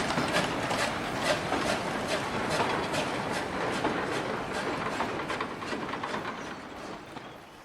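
A steam railway train runs past an engine shed with a steady clickety-clack of wheels and rattling mechanisms. The sound is moderately loud and fades slightly toward the end, with no voices.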